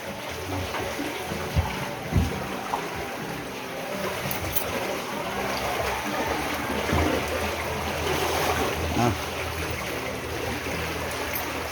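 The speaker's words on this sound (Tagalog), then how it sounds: "Pasok na yung tubig." Floodwater rushes and churns steadily, knee-deep, a broad continuous wash of flowing water with occasional splashes and thumps, loud and close throughout.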